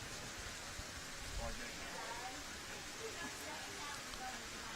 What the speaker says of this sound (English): Well, this rain has got heavier again.